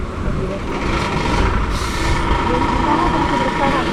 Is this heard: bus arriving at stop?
yes